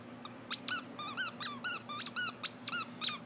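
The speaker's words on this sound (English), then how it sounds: "What happens if the squeaky goes?" Squeaky dog toy squeezed repeatedly by golden retriever puppies, a quick irregular series of about a dozen high, rubbery squeaks, close and fairly quiet, with no talking.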